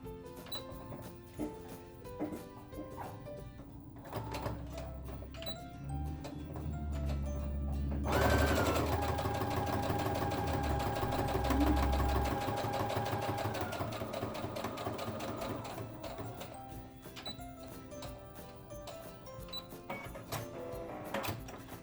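A sewing machine stitches close to a fabric edge while making a face mask with an elastic casing, its steady motor whir building into a louder continuous run in the middle before easing back amid lighter mechanical clatter.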